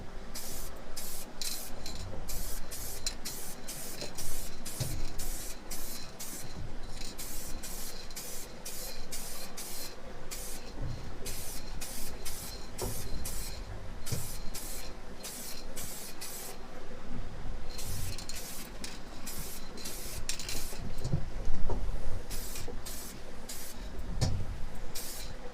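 Repeated bursts of aerosol spray paint hissing onto a motorcycle helmet in light coats, short sharp blasts of a second or so separated by brief pauses, close and fairly loud throughout.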